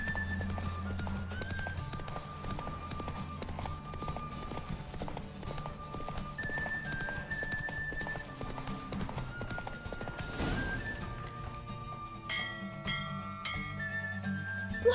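Rhythmic horse hoofbeats in The Witcher 3: Wild Hunt clip-clop steadily over looping game music, with a horse whinnying partway through and chiming tones near the end.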